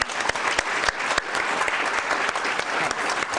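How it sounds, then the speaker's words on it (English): An audience at a nonprofit panel event claps in steady, dense applause, moderately loud and sustained with no talking over it. "can you give me a round of applause?"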